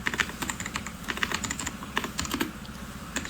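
Rapid clicking keystrokes on a computer keyboard as an ipconfig command is entered in CMD, steady close-up typing with no talk.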